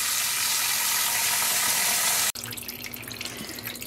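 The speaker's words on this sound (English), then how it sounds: "I'm gonna fill this up with water." Tap water runs steadily into a container for rinsing hand-dyed super bulky single-ply yarn, a broad continuous rush that cuts off briefly and resumes with a splashier, more uneven flow.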